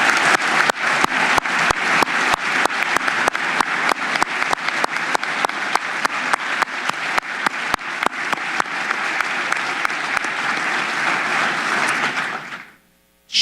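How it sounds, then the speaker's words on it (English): Loud, sustained applause from a crowd at a governor's State of the State address, dense clapping throughout that fades out quickly at the end. "So let's give a big round of applause"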